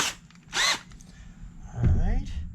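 Power drill driving self-tapping screws, two short bursts of whining motor, the first brief and high, the second a lower rising whir as the screw bites, with quiet stretches between.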